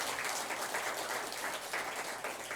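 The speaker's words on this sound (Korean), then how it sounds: "일단 박수 쳐주세요." Congregation at a Friday Buddhist temple Dharma service claps in thanks after a monk's talk, a steady, full wash of applause at even loudness with no speech over it.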